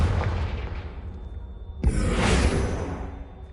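A Confringo blasting spell goes off in Hogwarts Legacy, a single sharp explosive burst with a whooshing blast that swells and then fades out over a couple of seconds.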